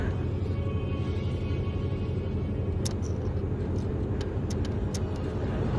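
A car cabin drive with a constant low road rumble and engine drone throughout, steady and close, with a few faint clicks and knocks in the second half.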